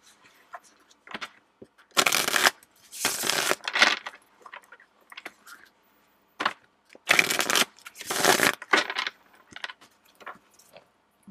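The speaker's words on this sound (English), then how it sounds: "let's give your deck a quick little shuffle" A tarot deck is shuffled in several bursts of riffling and bridging, each burst a second or so long, with quieter card handling and taps between them. The sound is close and crisp, and no one speaks.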